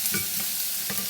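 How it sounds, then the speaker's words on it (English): Bacon and onion frying in a hot pan, a loud continuous sizzle with a few stirring scrapes, close up with no voices. "we're putting the bacon and the onion in, and I'm going to go ahead and throw in the pasta"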